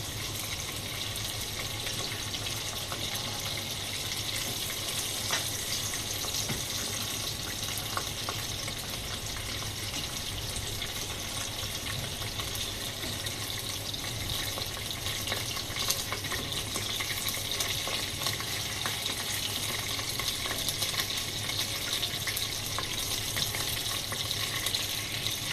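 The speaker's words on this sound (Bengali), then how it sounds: "আমার মাছ ভাজা হয়ে গেছে, এখন এক একে তুলে নিব মাছ ভাজাগুলো" Tilapia fish fry in hot oil with a continuous even crackling hiss, close and unbroken, with occasional faint clinks in the background.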